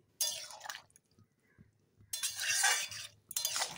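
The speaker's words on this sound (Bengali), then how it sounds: "ভালো করে নেড়ে টেড়ে দিলাম।" A spoon scrapes and clinks against a pot while stirring a cooked vegetarian vegetable curry, in three short bursts of wet scraping separated by quiet pauses, close and fairly soft.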